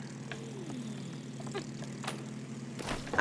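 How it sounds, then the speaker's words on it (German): An airplane flies in the co-op video game It Takes Two, a steady low propeller engine drone that stays fairly faint and even, with a few small game effects and no talking. "Da muss man bestimmt mit dem Flugzeug da fliegen"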